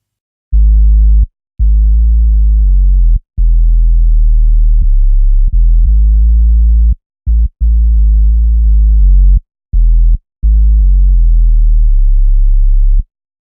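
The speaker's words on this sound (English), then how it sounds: "This plugin is modeled after the classic Roland 303 bassline synthesizer" D16 Phoscyon plugin emulating a Roland 303 bassline synthesizer, playing a loud, buzzy, resonant bass sequence of sustained notes with short gaps and pitch slides, heard alone.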